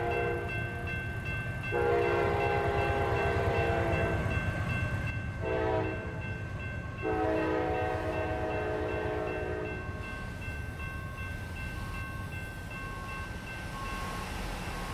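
A train rumbles past a level crossing in a truck driving video game, sounding two long, loud horn blasts over a steady rolling rail noise.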